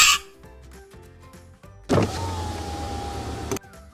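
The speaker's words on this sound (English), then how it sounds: "don't roll up the window" A car's electric power window motor whirs steadily for about a second and a half, close and loud, with a sharp clunk at the start and a thud as the glass seats at the top.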